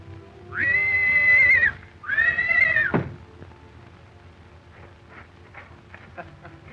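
A horse neighs twice in close succession, loud and near, on a ranch, followed by quieter rustling and faint background noise.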